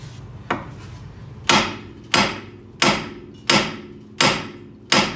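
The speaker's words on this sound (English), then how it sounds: "we're gonna hammer right here on the lower control arm because that ball joint is pressed into the lower control arm" Seven sharp, ringing hammer blows strike a Honda Civic's lower control arm to knock loose a pressed-in, tapered ball joint, landing at a steady rhythm about every two-thirds of a second with quiet between.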